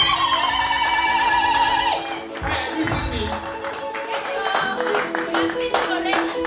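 Church congregation clapping for Jesus during a worship service, a loud dense patter of hands mixed with music and voices throughout.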